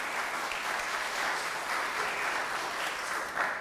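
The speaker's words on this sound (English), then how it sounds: "give them a round of applause" A church congregation applauds during a Sunday morning service, a steady, dense wash of clapping hands that stays even from start to finish without any talk over it.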